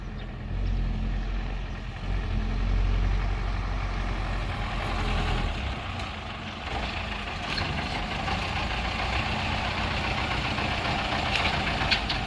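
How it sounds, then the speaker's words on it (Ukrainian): A truck rolls in and idles at a warehouse scale, a low diesel engine rumble holding steady and close with faint mechanical clatter and a brief hiss, no voices heard. "заїжджає в нас перша машина"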